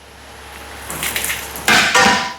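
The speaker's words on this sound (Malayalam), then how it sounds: "തക്കാളിട്ടു ഇളക്കണം ഇളക്കണം" Tomatoes being stirred in a cooking pot, with a few close metallic scrapes and knocks of a spoon against the pot that build toward two louder clattering bursts.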